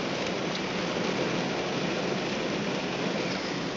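Steady, heavy rain hisses continuously on a surface during a severe storm in Lowell, a dense wash of droplets over standing water with no pauses and no voices.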